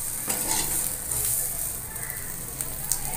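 Soybean chunks frying in oil in a pan until golden brown, with a steady close sizzle and occasional stirring scrapes and clinks running throughout.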